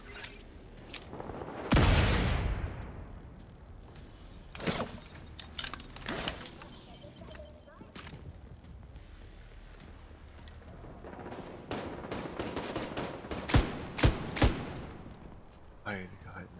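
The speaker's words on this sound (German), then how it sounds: "Sogar Schüsse entdeckt." Gunfire in The Division 2 video game: several sharp bursts and single shots ring out amid a busy game soundscape, with a loud blast early and a cluster of cracks near the end.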